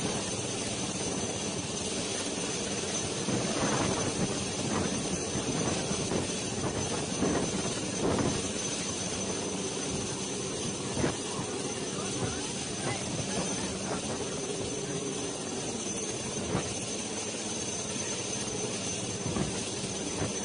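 Army rescue helicopter airlifting a pregnant woman during flood rescue operations in bad weather, rotor and engine droning steadily and loudly for the whole stretch, with faint talk mixed in.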